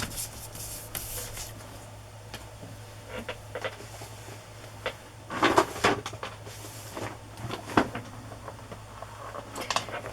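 A drawer holding journaling stamps slides open, with soft wooden knocks, light rattles and rummaging clicks scattered through, close and fairly quiet, with no talking.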